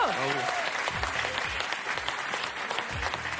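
Studio audience applauding on a French television game show, a dense steady clatter of many hands filling the whole stretch, with a brief voice heard at the start.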